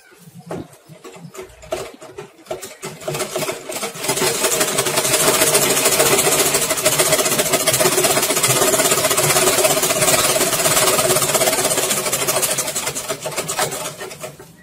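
Sewing machine stitching the fabric of a gents pant: a few light clicks and short bursts, then a loud, continuous fast whirring run that holds for about ten seconds before slowing.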